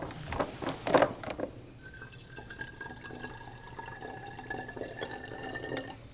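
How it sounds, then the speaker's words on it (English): Buffer liquid running into a pressure myograph's P1 bottle, with a burst of splashing and dripping early on, then a steady, quieter trickle of filling liquid that continues to the end. "we will first fill the P1 bottle with our PSS buffer."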